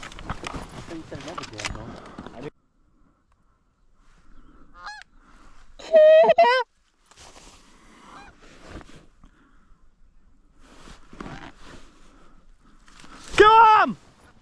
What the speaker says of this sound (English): We got birds coming.